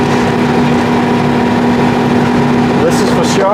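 A 1956 Citroën Azu's small engine drones steadily and loudly on its first test drive after 40 years unused, a constant close hum with a voice briefly breaking in near the end.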